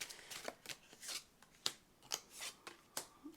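Oracle deck cards being shuffled by hand, a quiet close series of rapid riffling flicks and slides in an irregular rhythm with no talking.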